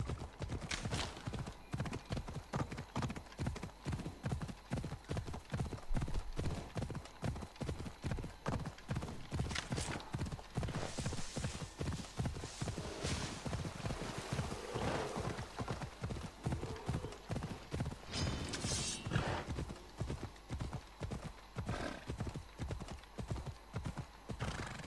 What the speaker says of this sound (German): Pferdchen, du darfst hier erstmal warten.